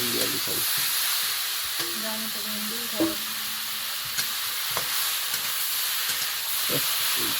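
Okra and potatoes fry in a pan alongside already-fried shrimp, giving a steady broadband sizzle with a few soft scrapes of stirring scattered through.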